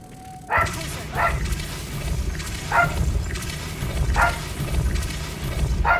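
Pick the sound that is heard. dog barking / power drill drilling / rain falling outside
dog barking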